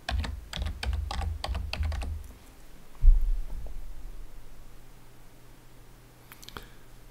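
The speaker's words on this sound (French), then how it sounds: "on va prendre notre clavier et saisir le nom du dossier voulu" Rapid, close clicks of a computer keyboard as a folder name is typed, a burst of keystrokes lasting about two seconds, then a single heavier key press and quiet room hum.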